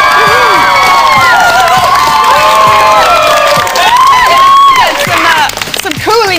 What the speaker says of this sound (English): a big cheer and lots of screams for the Backstreet Boys